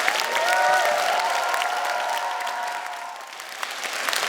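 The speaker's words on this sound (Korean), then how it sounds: "강신주 박사님을 뜨거운 박수와 환호로 맞아주시기" A lecture hall audience greets a philosopher taking the stage with steady, dense applause and a few cheers, holding fairly loud throughout and easing slightly toward the end.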